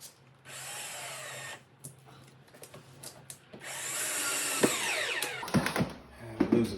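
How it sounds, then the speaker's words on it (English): Cordless power drill driving a screw into a window frame: short bursts of motor whirring separated by pauses and handling clicks, then a longer, louder run that winds down with clunks at the end. "We're gonna screw it into the frame."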